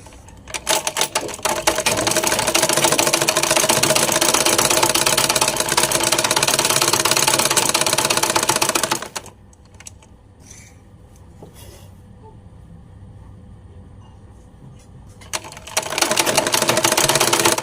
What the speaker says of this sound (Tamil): இப்போ கையை வந்து மடக்கி தைக்க போகிறோம்